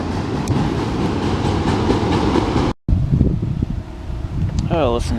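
AC diesel locomotive on a passing freight train rumbles by close and loud with wheel clatter and wind noise, cut off abruptly, then quieter rolling rail sounds with a voice speaking near the end.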